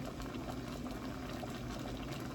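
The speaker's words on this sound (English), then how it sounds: "The water is getting hot." Water in a pot on a kitchen stove heating toward a boil, giving a steady, close, moderately loud bubbling hiss that continues evenly without any talk.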